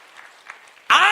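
Loud applause bursts in abruptly near the end, a dense clatter of many hands clapping in a church-style gathering after quiet murmuring.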